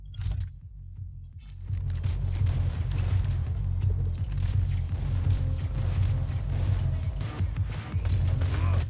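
Gunfire in the video game Borderlands 2, a pistol firing in a steady stream of sharp shots with mechanical clatter, loud and continuous after a brief quiet opening.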